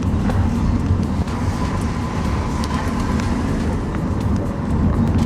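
A car on an instructor's demonstration lap around the Three Sisters race circuit produces a loud, continuous low engine drone and road rumble that stays steady throughout, heard from inside and without talk.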